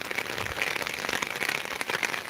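Heavy rain pours down over waterlogged soybean fields, a steady dense hiss of drops hitting water and ground, close and continuous, with no voices.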